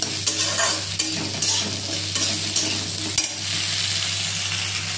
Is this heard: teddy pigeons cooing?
no